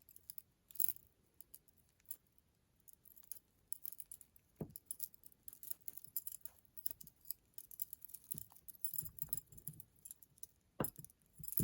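Thin metal jewelry chains from a repurposed thrift-store jewelry lot being picked apart by hand, giving faint, scattered tinkling and clicking jangles in quick irregular bursts over a quiet background.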